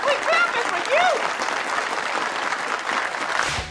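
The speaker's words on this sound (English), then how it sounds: "We're clapping for you!" A group of people claps steadily throughout, with a few short whistle-like tones early on over the dense, even applause.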